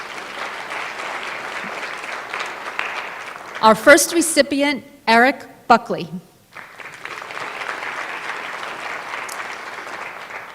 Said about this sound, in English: yes, applaud, that's very important